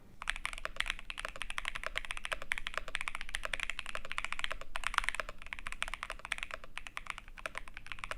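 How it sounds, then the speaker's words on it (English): Steady, fast typing on an Asus mechanical keyboard with its plastic cover removed, bright clattering keystrokes heard up close without pause. "Here's the keyboard without the plastic cover."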